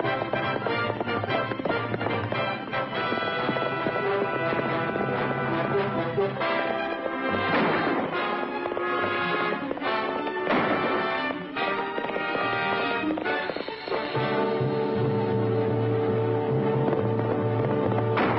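Horses gallop in a 1940s Western film scene, a steady drumming of hooves blended under a loud, continuous orchestral score with no break.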